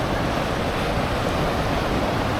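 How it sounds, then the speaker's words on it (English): The Falls of Dochart waterfall gives a steady, dense rush of white water, loud and continuous throughout with no voices. "What an absolutely spectacular waterfalls."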